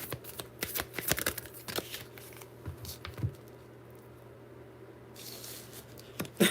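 Tarot cards riffle and shuffle close by in quick flurries of crisp slaps and patters, with quieter handling between bursts over a low steady hum.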